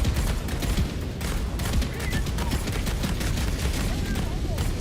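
An autocannon in Helldivers II firing at a turret, heavy repeated shots in a steady rhythm over a constant roar of battle noise.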